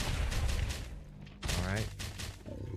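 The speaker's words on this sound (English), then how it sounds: "let's use the grenade launcher" A grenade launcher fires in Last Day on Earth: Survival with rapid repeated bursts and booming thumps in two volleys, loud and close, while someone talks over them.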